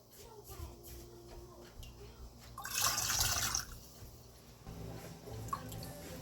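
Chicken bone broth poured into canning jars in a home kitchen, a soft liquid splash rising to a louder gurgling pour in the middle, then quieter trickling and faint handling.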